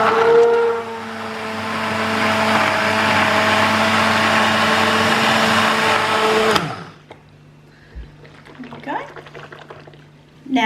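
Blender whirs loudly as it blitzes a homemade hand soap mixture, a steady motor roar with mixing liquid that cuts off abruptly, followed by quieter handling noises and someone speaking.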